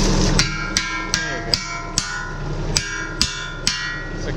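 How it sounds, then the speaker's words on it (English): Repeated sharp strikes of a lump hammer while clearing a blocked drain, about nine spaced metallic impacts at an irregular rhythm over a low background hum, fairly close and loud. "That is the lump hammer."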